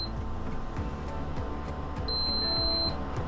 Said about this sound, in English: it's gonna beep at me and then it's just gonna shut off